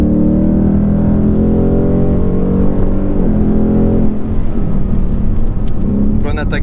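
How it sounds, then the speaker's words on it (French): A Ford Mustang GT V8 engine revving steadily, dipping briefly under braking, then pulling up again with a loud, droning roar close by. "Bonne attaque de frein, c'est assez agréable."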